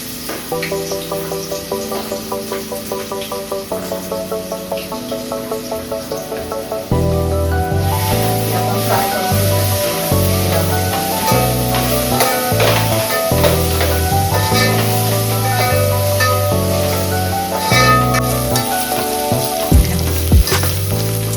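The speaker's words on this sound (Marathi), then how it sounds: "आलं लसूणची पेस्ट आपण चांगली परतून घेऊया तेलामध्ये" Ginger garlic paste spitting and sizzling in hot oil for a street-style spicy red momos chutney, a steady close hiss running under loud, rhythmic background music.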